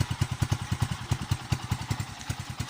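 Close up, a Bajaj CT 125 motorcycle engine idles with a steady, loud thumping beat, about five pulses a second, with no talk over it.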